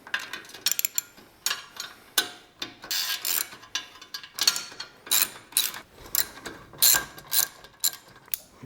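A wrench loosens the front fender bolts on a 2006 Harley-Davidson Sportster, giving close, quiet ratcheting clicks in uneven bursts throughout with no speech.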